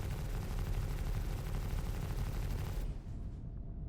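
Ship guns on a Drake Pitbull firing in the game Star Citizen, a dense continuous rattling burst for about three seconds that cuts off into a fading tail, loud and without talk.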